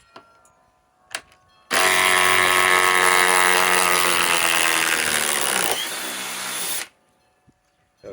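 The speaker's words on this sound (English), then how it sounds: "Let's go to the impact drive, the DeWalt XR DCF 860 that does remove stuff faster than it installs it." A DeWalt XR DCF860 cordless impact driver runs loud and close for about five seconds, a harsh, buzzing mechanical whine that ends abruptly, with short clicks before it starts.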